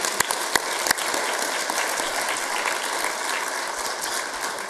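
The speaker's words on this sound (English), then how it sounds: "Let's give Steve another round of applause." An audience at an environmental and design awards ceremony in Fairfax County applauds a recipient, a steady wash of clapping from many hands with a few sharper near claps at the start, with no talking.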